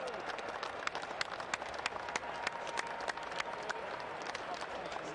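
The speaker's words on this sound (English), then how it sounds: "Italians applauding off this Scottish side." Distant stadium applause at an Italy versus Scotland Six Nations rugby match, with Italian players and crowd clapping the Scottish side off: a continuous faint wash of clapping with scattered sharper claps.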